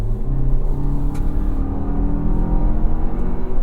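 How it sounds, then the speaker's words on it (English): A 2024 Toyota Grand Highlander with a turbo engine accelerates, heard from inside as a steady, close engine drone and whir that holds at an even loudness throughout, with no talking. "Getting up to speed with the turbo motor."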